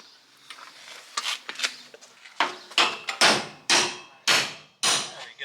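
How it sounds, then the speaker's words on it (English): A big hammer strikes an RV suspension shackle in a run of about eight loud, close metallic blows, spaced irregularly at first and then coming every half second or so, with nothing else heard. "If that don't work, then what we'll do is, there's a big hammer over there"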